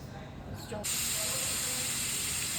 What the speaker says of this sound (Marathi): कुकरला दोन शिट्ट्या झाल्या की